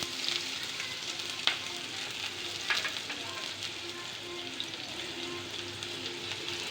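Half a cup of onion, four or five garlic cloves and ten sliced green chillies fry in three tablespoons of soybean oil, giving a steady close sizzle with a few light clicks and pops.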